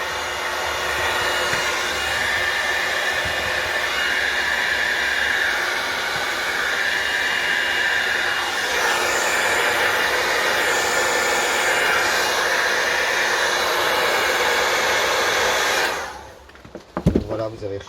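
A heat gun blows hot air onto the engine casing of a Derbi Euro 2 during teardown. The steady, loud, close whooshing roar runs unbroken for about sixteen seconds, then cuts off with a few clunks.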